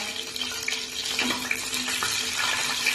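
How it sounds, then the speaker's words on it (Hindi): White cumin seeds sizzling in hot cooking oil for a chana dal tadka, a continuous bright crackling hiss at steady moderate loudness with no talk. "अब इसमें जाएगा सफेद जीरा थोड़ा सा तड़के के लिए।"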